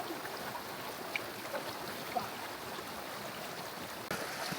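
Steady broadband rushing of a river flowing near Liwliwa, Zambales fills the scene, a constant close wash with small splashes scattered through.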